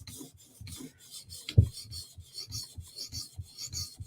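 A blade is sharpened on fine polishing stones, giving rhythmic rasping strokes, about two per second, quiet and close, with one sharper knock partway through.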